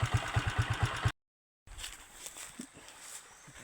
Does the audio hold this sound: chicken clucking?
no